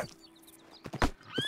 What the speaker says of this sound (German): Ein Pferd. Ein Zugpferd sogar.